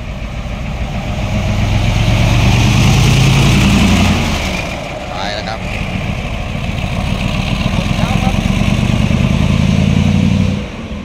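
A tour bus engine revs hard, rising and falling in loud low roars over a rumbling idle, close by and continuous, with people talking underneath.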